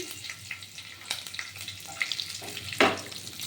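Panch phoron and chopped chilli frying in hot oil, a faint steady crackle with a few sharper spits and one louder burst near the end, close up and quiet, no speech.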